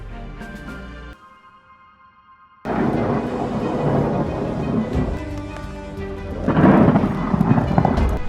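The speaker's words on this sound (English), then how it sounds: "lightning struck the world's largest clock tower during a thunderstorm" A thunderstorm over Mecca's clock tower during a lightning strike: loud rumbling and crackling thunder, cut by a sudden drop to near quiet, then a heavy roar of storm noise swelling again toward the end.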